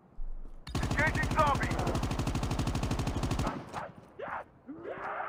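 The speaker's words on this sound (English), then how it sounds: "Oh, an AK. Give me that AK." Sustained automatic AK rifle fire in Call of Duty: Mobile battle royale, a loud rapid burst of evenly spaced shots lasting nearly three seconds, then stopping abruptly as brief game voice and effect sounds follow.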